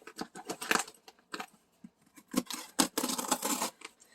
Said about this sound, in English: Hang on while I get my scissors.